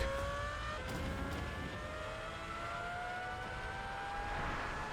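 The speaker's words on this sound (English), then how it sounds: "That V12 sounds sick." A Lamborghini V12 engine in the video game PUBG revs and pulls through its gears, its high tone sweeping upward repeatedly at a steady, moderate loudness, with no voices.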